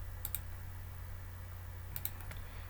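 A few soft keyboard key clicks in two small clusters, faint over a steady low hum, with no talking, as a user works a SolidWorks sketch.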